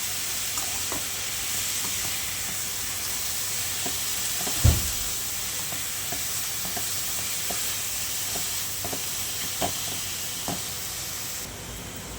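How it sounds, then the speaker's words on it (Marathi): Grated bottle gourd sizzles and fries in two spoons of ghee in a kadhai, a steady close hiss with occasional soft stirring clicks and one brief louder knock near the middle. "किसलेला दुधी मी घालून घेते आणि छान असा परतून घेते"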